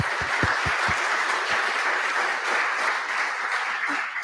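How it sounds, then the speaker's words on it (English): Steady, dense audience applause at a business school graduation ceremony, continuous clapping from a large crowd with a few louder close claps at the start. "so give her a round of applause"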